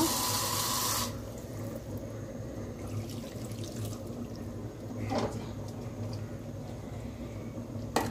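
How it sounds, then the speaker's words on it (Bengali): Water poured into a pot of Bengali chorchori made with drumsticks, potato and jackfruit seeds, a brief bright splash at the start giving way to low kitchen hum and faint clatter. "এবার এই একটু জল দেব"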